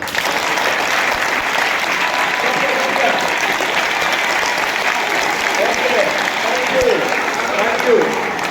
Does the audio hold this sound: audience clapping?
yes